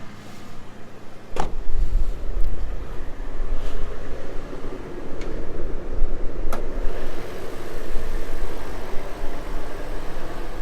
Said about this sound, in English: This right here is that glorious 4-liter V6 tied to that 5-speed automatic transmission.